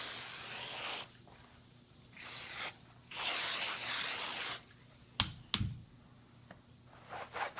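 A Coach purse gets sprayed down during cleaning, several separate hissing bursts of a spray bottle, each lasting about a second, with quiet pauses between them and a few small handling clicks.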